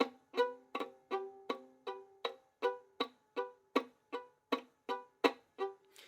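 Soft, rhythmic bowed chops on a fiddle, about two strokes per second, each a short scratchy pulse with faint pitched notes, played alone and close.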